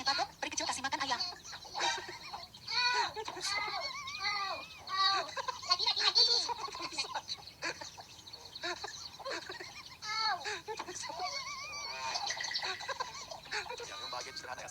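Chickens being fed cluck and chirp in repeated short bursts, fairly close, with voices murmuring underneath.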